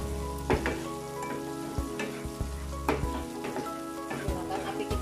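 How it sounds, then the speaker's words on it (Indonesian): Meatballs stir-fry in a pan for a vegetable scramble, with a continuous sizzle broken by several sharp utensil scrapes and knocks against the metal, close and with no one talking. "kita masukkan baksonya. Ini juga sama, kita tumis semuanya."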